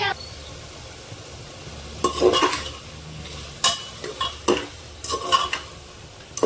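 Egg and potato curry being stirred in a pan, with spoon scrapes and brief sizzling bursts coming in irregular clusters over a quiet kitchen background, close and moderately loud.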